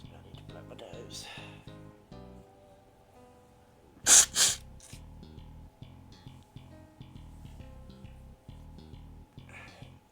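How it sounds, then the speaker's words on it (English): A short, forceful nose blow in two quick bursts, loud and close, set between stretches of a person talking. "I need to blow my nose."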